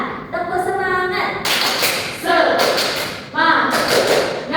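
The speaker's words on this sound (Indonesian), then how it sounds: "Tepuk semangat." An elementary school class in an Indonesian science lesson performs the tepuk semangat clap, short rhythmic bursts of hand claps and thuds broken by children's chanted voices, close and lively in a classroom.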